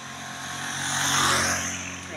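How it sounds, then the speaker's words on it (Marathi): A vehicle passes along a roadside route near a Narmada riverbank pilgrimage path, its engine rush swelling to a peak mid-way and easing off, loud and fairly close, with no talk over it. "लय गाड्या फास्ट चालल्या"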